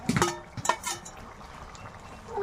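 A prawn and potato curry with fresh home-grown vegetables bubbling in a pot: a few sharp utensil clinks at the start, then soft, low simmering that fades to a quiet, steady burble.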